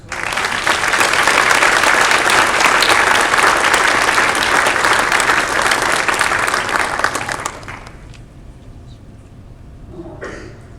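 Audience applause at a school board meeting, loud sustained clapping from a room full of people for about seven seconds before it fades into quiet room noise.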